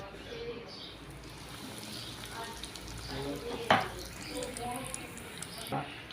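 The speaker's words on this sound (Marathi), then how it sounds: "मीडियम गॅसवरती आपण शालो फ्राय करत आहोत." Egg-dipped, breadcrumb-coated chicken croquette rolls shallow fry in oil over medium gas, giving a steady close sizzle with a sharp clink midway, while a voice speaks faintly underneath.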